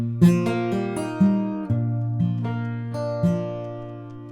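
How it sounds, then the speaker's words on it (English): Fingerstyle acoustic guitar plays a two-measure blues-folk turnaround using an open G shape and an open second string, with about six evenly spaced plucked note attacks ringing clearly and alone. "So that 2-measure turnaround sounds like this."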